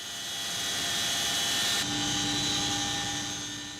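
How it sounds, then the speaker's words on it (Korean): Military helicopters lift off and climb with special forces paratroopers aboard, a loud, steady rotor and turbine roar that fills the space throughout, with a droning whine holding on top. "고공강화 대원들을 태운 헬기들이 서서히 하늘로 날아오르기 시작한다"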